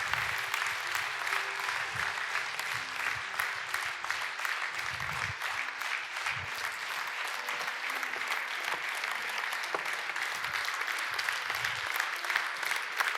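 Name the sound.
church congregation applauding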